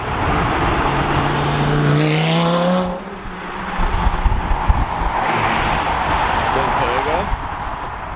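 A Chevrolet Nova SS muscle car rumbles past at a supercar street event, its engine note rising and falling as it goes by, then more traffic noise follows while people talk and exclaim nearby.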